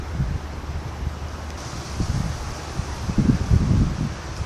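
Gusty wind blowing through the east port on Réunion Island, a steady rush with low buffeting gusts that swell toward the end, vegetation rustling, no voices.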